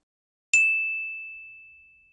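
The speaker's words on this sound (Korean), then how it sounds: "갑자기 초인종이 울렸습니다" A doorbell gives one bright chime that rings out alone in silence and fades slowly over about two seconds.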